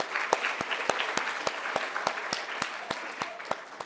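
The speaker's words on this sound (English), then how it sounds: "Can we get another round of applause?" Applause from the audience at a young women's career conference, heard as faint, fairly evenly spaced sharp claps in a steady rhythm against a quiet room.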